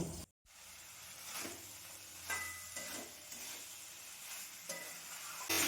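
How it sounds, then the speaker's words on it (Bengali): Boiled kabuli chickpeas stir-fried in a pan, soft sizzling broken by rhythmic spatula scrapes and stirs, close up and moderately quiet. "কাবলি ছোলার সাথে আবার একটু আমি কষিয়ে নেব।"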